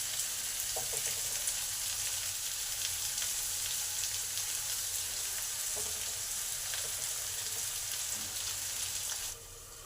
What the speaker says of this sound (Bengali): চপগুলোকে উল্টে পাল্টে ভেজে নিতে হবে।